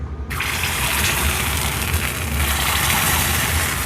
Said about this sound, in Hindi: अब हम इस पानी के अंदर इस पिघली हुई प्लास्टिक को डालेंगे